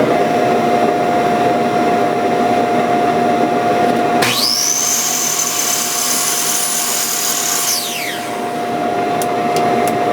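A power saw cuts a miter in a piece of firewood for a chisel box. A loud motor whine runs throughout, then a sharp rising tone as the blade bites, a sustained cut for a few seconds, and a drop as it finishes.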